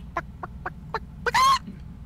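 A chicken clucks in The Legend of Zelda: A Link to the Past, a run of short evenly spaced clucks followed by a louder, longer squawk, clear and alone against a quiet game background.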